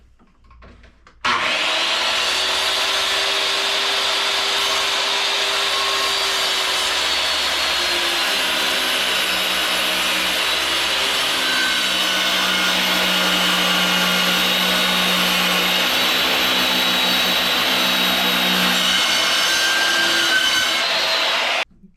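A power saw whines loud and steady for about twenty seconds while cutting through a clamped door, starting and stopping abruptly, with no voices.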